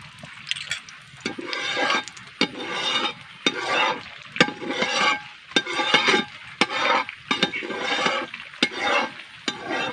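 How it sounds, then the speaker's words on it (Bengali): Parathas fry in oil on a hot tawa, with bursts of crackling sizzle rising and falling in a rough rhythm alongside scraping and light metallic clinks, close and without voices. "এবার দিয়ে দিচ্ছি তেল প্রথম আমি পরোটাগুলোকে ভেজে নেবো"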